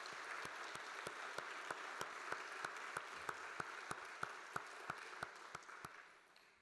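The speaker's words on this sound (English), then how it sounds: "Let's give her another big round of applause" Audience applause after a call for another big round for a woman honoured for her community legacy, a steady, dense crowd clapping with sharp individual claps popping through, sustained throughout and tapering slightly at the end.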